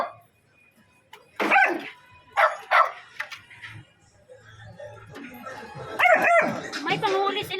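A trapped dog wedged in a motorcycle sidecar gives several sharp yelping barks and whimpers in separate bursts, close by, with people talking around it.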